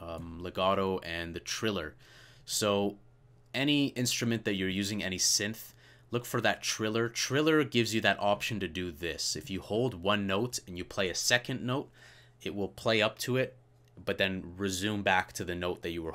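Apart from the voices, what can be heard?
No distinct noise like a dog, phone or traffic.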